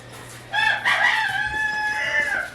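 A single rooster crows once, close and loud, a long drawn-out call with no talk over it.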